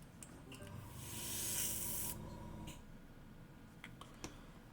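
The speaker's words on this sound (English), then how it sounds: "Alexa, airbrush on." An airbrush spraying paint in a hobby painting session gives a steady hiss that swells for about a second and then cuts off, with faint clicks and small handling noises before and after.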